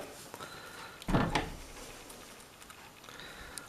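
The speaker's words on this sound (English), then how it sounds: "just close this door for the moment" An interior door in a small cottage is pushed shut with a single solid thump and a short rattle of the latch, close by in a quiet room.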